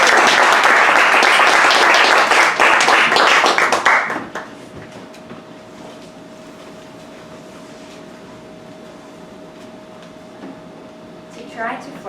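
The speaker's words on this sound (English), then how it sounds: "Get a round of applause for Elisa up here." Applause from a reading-showcase audience rises loud and dense for about four seconds, then cuts off, leaving quiet room tone with a steady faint hum and a brief stir near the end.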